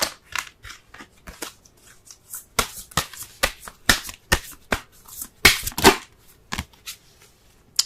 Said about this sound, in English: Let's go ahead and pull a Romance Angels card.